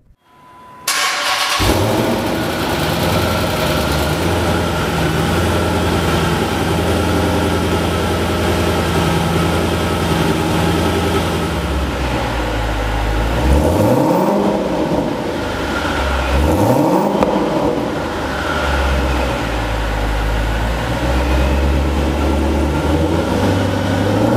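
A 2008 Dodge Challenger from Mr. Norm's Garage, built to make over 900 horsepower, fires up and idles with a deep, loud rumble, then gets revved twice in quick rising-and-falling swells before settling back to idle.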